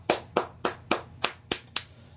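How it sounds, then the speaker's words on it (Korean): Seven sharp hand claps ring out alone in a steady rhythm, close and crisp, the last few coming slightly quicker. "우선 제가 박수 한번 날려주고 시작해 보겠습니다"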